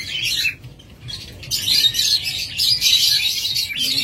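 A pair of rainbow lorikeets gives shrill, chattering calls close by in bursts that briefly fade, then return louder and more continuous.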